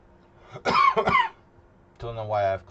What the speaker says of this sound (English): Don't know why I have coughing